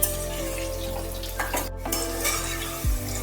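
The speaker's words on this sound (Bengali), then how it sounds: "আলু তেলেতে হালকা করে ভেজে নিচ্ছি।" Potatoes fry lightly in mustard oil in a wok, a steady close sizzle with occasional stirring scrapes and a brief clatter of utensils near the end.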